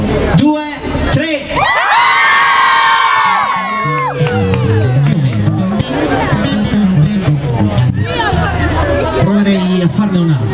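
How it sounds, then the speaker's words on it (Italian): A live pop concert crowd answers a count-in with a loud burst of screams, whoops and cheering, children's high shouts prominent, swelling then breaking into scattered excited calls and chatter. "Un urlo, io faccio 1, 2, 3 e voi urlate per riscaldarci."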